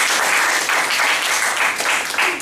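A Toastmasters club audience applauds after a speech evaluation, with steady, dense clapping that fills the room from start to finish and stays close and loud.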